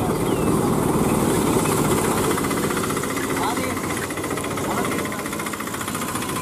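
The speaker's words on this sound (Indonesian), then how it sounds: "Wih, ada motor bajai." A Bajaj motor rickshaw engine drones loudly and steadily with a rough, rattling texture, holding at close range for the whole stretch before easing slightly toward the end.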